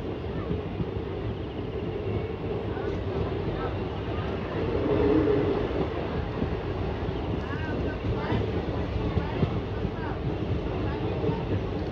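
A passenger train runs from Puranpur toward Mailani Junction, a steady broadband rumble and rattle heard from on board, with a slight swell midway.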